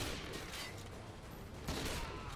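Gunfire in the video game Modern Warfare 2 makes a dense, continuous crackle of shots for a couple of seconds, fairly quiet and steady.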